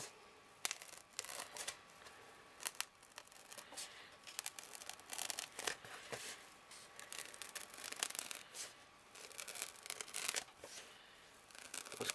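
Scissors cut through foam around the rim of a handmade top hat, a quiet, close run of rasping snips and rustling scrapes with soft handling noises and no talk.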